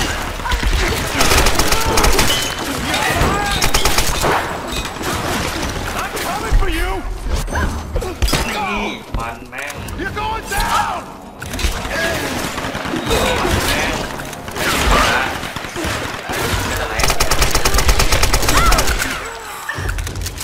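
Dense gunfire from the Tomb Raider video game, rapid bursts layered with mechanical clatter and crashes, loud and continuous, with a voice talking over the action.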